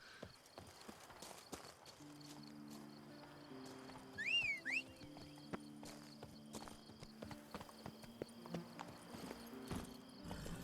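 Roach the horse's hooves clip-clopping in The Witcher 3 game world, a steady run of hoof beats with crickets and a brief whinny-like call over a low musical bed.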